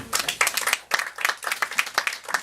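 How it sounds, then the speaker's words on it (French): Small audience at an evening poetry and performance show applauds a young performer, a thin, uneven patter of a few people clapping in loose bursts, fairly quiet and close. "on l'applaudit mesdames et messieurs"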